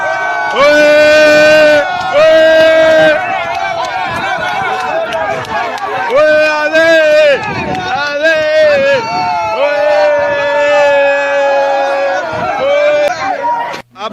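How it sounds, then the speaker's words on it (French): A large crowd at an outdoor rally chants and cheers loudly and continuously, with sustained tonal group chanting rising and falling in waves, a shout ringing out over the din. "voici la réaction de la foule"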